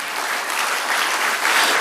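A church congregation in Indonesia claps loudly in praise during a sermon, a brief burst of dense, continuous applause heard up close.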